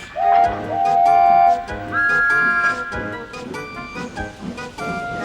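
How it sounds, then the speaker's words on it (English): A guard's whistle gives shrill, sustained blasts over a busy musical background, then the piping fades into the surrounding sound. "the guard's whistle blew, and they had to be off."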